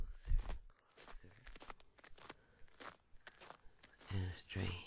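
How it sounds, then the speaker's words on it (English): Close, crunchy footsteps on gravel come in irregular bursts, scattered quietly at first and growing louder and heavier toward the end as they approach. "Footsteps in the gravel."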